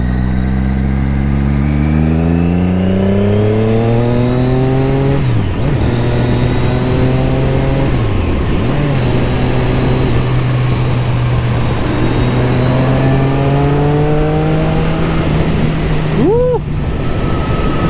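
A Triumph Daytona 675 R motorcycle on a twisty road, its engine revving hard and climbing through the gears with quick drops at each shift, loud and steady with wind rush throughout.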